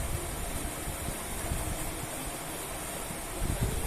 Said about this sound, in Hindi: अब इसको हमने अच्छी तरह भून लेना है।